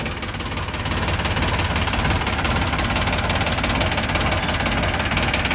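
New Holland 3030 diesel tractor idles close and loud, a continuous knocking clatter holding steady throughout with no talk.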